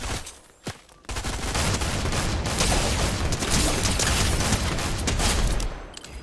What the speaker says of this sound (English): there's somebody else shooting you to the left of you